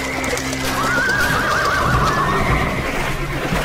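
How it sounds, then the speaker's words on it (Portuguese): Nervous horses neighing in mud, a long wavering whinny rising above dense, steady background noise and a low rumble, with faint hoof sounds around it. "Essa lama deixa os cavalos nervosos!"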